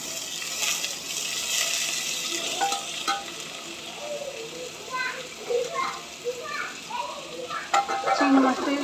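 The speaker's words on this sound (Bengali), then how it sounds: "চিংড়ি মাছটা একটু ভেজে নেব।" Shrimp frying with onion in a pan, a steady sizzle with repeated stirring scrapes and clinks, close and moderately loud, a voice talking over it.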